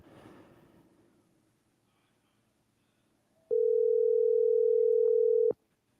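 A steady telephone dial tone hums for about two seconds as a call is placed during a live call-in show, loud and unbroken, after a brief stretch of faint room noise.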